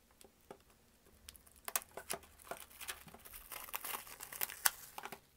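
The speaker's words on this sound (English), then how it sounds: "So now we got the wrapping out the way." Plastic shrink wrap crinkles and tears off a Target exclusive Mondo Reservoir Dogs Steelbook, close and fairly quiet, building from sparse crackles into a dense stretch of crumpling.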